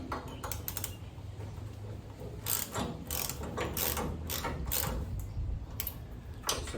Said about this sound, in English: So that ratchet was fighting me in the back.